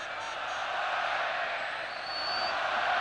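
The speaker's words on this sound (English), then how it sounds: "the crowd really trying to get involved in the action here and cheering every pass" A football stadium crowd at a 2001 Copa America match between Honduras and Costa Rica keeps up a steady, broad roar of cheering and noise that swells slightly toward the end.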